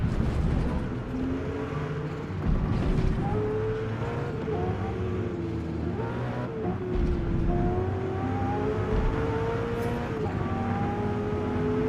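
Race car engines in the Forza Motorsport video game drone steadily with rising and falling pitch, several cars revving and shifting together at a constant loud level throughout, with no talking.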